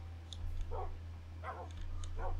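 Dogs in Minecraft bark in three or four short, moderately loud yips over a steady low hum, with no talk.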